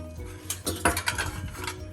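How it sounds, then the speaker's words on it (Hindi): Dishes, pots and cutlery clatter and knock together as they are loaded into a home dishwasher, a quick burst of irregular clinks and thuds at close range with no talking. "हम लोग थोड़ा बर்तन भी डिशवॉशर में डाल देते हैं"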